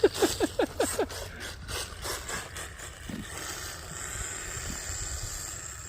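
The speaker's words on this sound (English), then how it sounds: "So it still does have some of the gear noise" Gear noise from a Kyosho Sand Master RC car with a 3300kv brushless upgrade, opening with a quick run of rising whirring bursts that settle into a steady, fairly close mechanical whine and rattle.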